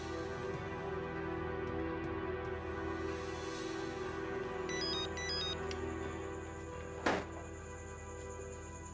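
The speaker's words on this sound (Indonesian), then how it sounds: "Telepon." Telephone ringing inside a home during a tense Indonesian TV drama scene, a steady electronic ringtone pattern sounding over a continuous music bed, with a brief sharp thud near the end.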